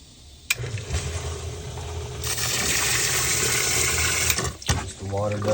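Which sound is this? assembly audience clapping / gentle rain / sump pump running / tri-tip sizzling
sump pump running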